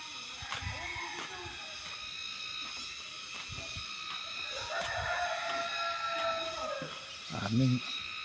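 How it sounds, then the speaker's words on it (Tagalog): Chickens and a rooster outdoors near a hillside road with cottages, faint clucking and a drawn-out crow mixed into a busy, noisy background, distant and low in level. "Daming manok. Tingnan natin itong mga manok na to."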